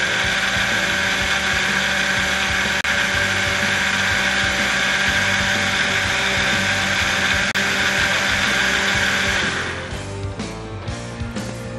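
A kitchen blender whirs loudly and continuously, mixing churro cake batter with flour, a steady high motor drone that drops in pitch and roughens near the end.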